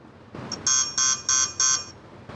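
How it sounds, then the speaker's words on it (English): A Winees M3 Plus security camera sounds its alarm, four loud, shrill electronic beeps in a steady pulsing pattern at close range, with no voices. "we're also gonna have an alarm. Now, this is pretty loud."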